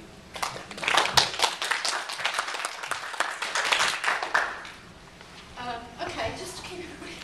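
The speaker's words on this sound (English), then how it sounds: "Round of applause for now." Conference audience clapping, a burst of many hands that swells quickly, holds for several seconds and then thins out, with voices talking under and after the applause.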